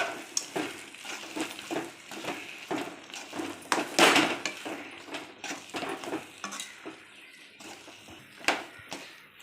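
A spoon stirs thickening rava kesari in a pan with fried cashews and raisins, making continuous close scraping and clinking strokes over a soft sizzle, with one louder scrape partway through.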